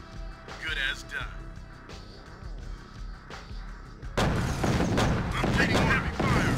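Gunfire and explosions in the real-time strategy game Command & Conquer: Tiberian Sun rattle throughout, then grow into dense loud barrages, mixed with short unit voice responses.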